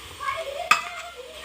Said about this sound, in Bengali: যতক্ষণ না ব্রাউন হচ্ছে ততক্ষণ এটাকে নেড়ে দেব